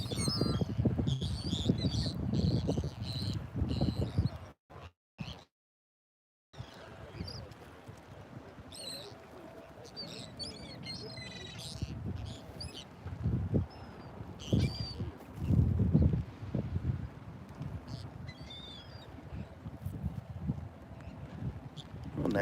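Birds squawk and call over continuous wind and surf noise on a North Naples, Florida beach at sunrise, with scattered sharp calls throughout and a brief dropout partway through.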